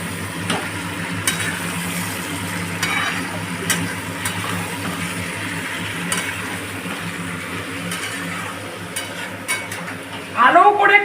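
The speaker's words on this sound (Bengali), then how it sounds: "এইবার আমি ভালো করে নেড়ে দেব" Food being stirred as it fries in a pan, a steady low sizzle with scraping spatula strokes and occasional clinks of utensil on metal, louder rattling near the end.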